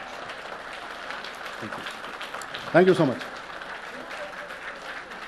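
An audience at the Sahitya AajTak 2025 literary festival claps for a poet, a soft, steady patter of applause in the background while a voice briefly speaks over it.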